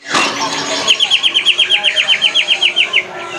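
A loud green leafbird delivers a fast, even series of bright repeated chirps, close by at a bird market, after a brief burst of noise at the start.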